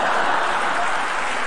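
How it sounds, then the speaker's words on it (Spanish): Audience applause at a Spanish-language stand-up comedy show with Agustín Jiménez: a steady, dense wash of many hands clapping, loud and continuous for the whole moment, with no voice standing out. "No aplaudas."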